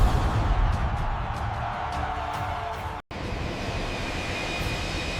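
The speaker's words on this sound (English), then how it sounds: "The Earth shakes as Stratofortress passes." A B-52 Stratofortress bomber roars past low overhead in a steady, heavy engine rumble that fills the whole stretch, with a brief dropout partway through.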